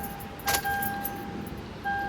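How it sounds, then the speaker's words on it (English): Keys jingle and scrape as they slide into the ignition of a 4th-generation Toyota 4Runner (2003–09), a brief close metallic rattle over a steady tonal chime and faint cabin hum. "I'm gonna put the key in the ignition."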